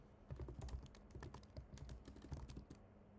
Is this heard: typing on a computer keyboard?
yes